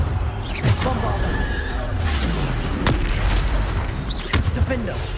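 Bombarda blasting spells in Hogwarts Legacy go off as sharp booming explosions, several heavy bursts over dense continuous game noise and rumble, with a few loud transient cracks standing out near the middle and end.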